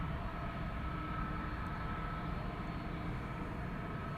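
A Boeing 777-300ER airliner at Schiphol Airport gives off a steady, faint, distant jet roar with no variation throughout.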